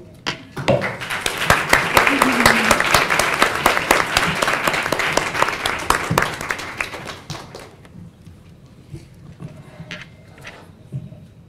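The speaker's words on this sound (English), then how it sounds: "Please join me with a round of applause from all of you" An audience at a university symposium on Sufi studies breaks into loud, sustained applause that swells, holds for several seconds, then fades to a few scattered claps and quiet room sound.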